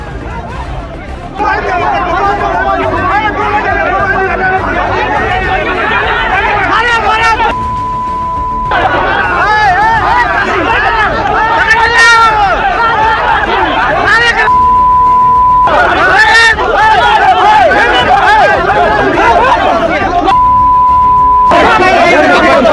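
Angry villagers in Maharajganj, Uttar Pradesh, crowding around a legislator and shouting protest slogans, a loud continuous babble of many voices with repeated chanting, a short steady electronic tone cutting in a few times.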